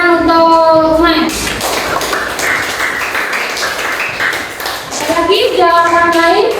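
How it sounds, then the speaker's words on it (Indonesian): Elementary classroom clapping for a student during a coding and artificial intelligence lesson, a burst of many children's hands clapping in an uneven patter for several seconds, framed by a teacher's voice before and after. "Oke, terus tepuk tangan untuk Mai."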